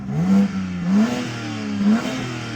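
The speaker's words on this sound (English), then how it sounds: "Oh, it revs all the way up." A car engine revs up repeatedly, rising in pitch three times with steady loud roaring between surges, close by.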